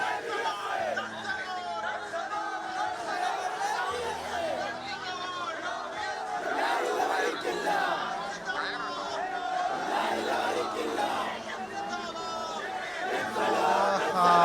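Large crowd chanting slogans for VS Achuthanandan at a roadside junction at night, a dense rhythmic mass of voices repeating in waves with steady babble underneath, continuous and fairly distant.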